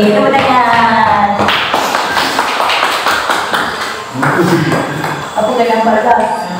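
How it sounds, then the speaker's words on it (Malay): Hand claps in a row during a paranormal investigation at a rest house, sharp taps mixed in with people talking close by. "Tepuk tangan."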